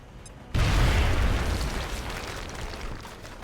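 A frag grenade explodes in a turn-based tactical video game, one sudden loud deep blast after a short quiet moment, trailing off into a long rumbling decay.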